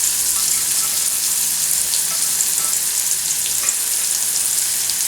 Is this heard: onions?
yes